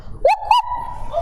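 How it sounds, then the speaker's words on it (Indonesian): A dog gives two short, sharp barks close by, the second rising into a drawn-out whining tone that trails off, with faint low background noise underneath. "Toki sesekali menggonggong kepada Seruni untuk menarik perhatiannya."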